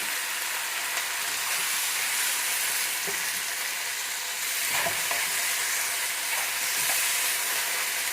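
Vegetables stir-fried in a pan with black pepper and salt, a steady loud sizzle filling the whole stretch with occasional soft clicks of the utensil, close and unbroken, no voices.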